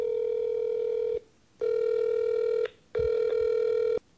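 An incoming call sets a telephone ringing with three close, steady electronic ring bursts, each about a second long and separated by brief pauses, with nothing else heard.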